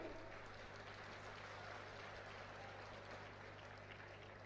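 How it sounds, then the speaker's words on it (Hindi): Audience applause at a political rally in Dausa, a steady, even wash of many hands clapping at a distance, continuous and unbroken throughout, with no speech over it. "बजाइए ताली।"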